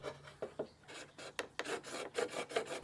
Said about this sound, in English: Use your chisel to remove a little at a time and retest the fit.